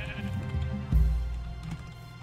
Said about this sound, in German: Das sind Schafe, das sind.